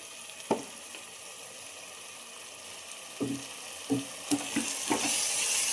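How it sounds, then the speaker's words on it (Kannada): Ground masala paste fries in hot oil in a pan for methi pulao, giving a steady low sizzle. A spoon knocks and scrapes against the pan now and then, and the frying grows a little louder toward the end. "ಇವಾಗ ರುಬ್ಬಿಟ್ಕೊಂಡಿರೋ ಮಸಾಲ ಹಾಕೋತಾ ಇದ್ದೀನಿ"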